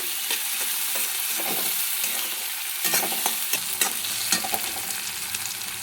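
Salted onions cook in a pan with a constant crackling sizzle, punctuated by repeated stirring scrapes and spoon taps, close up with no talking.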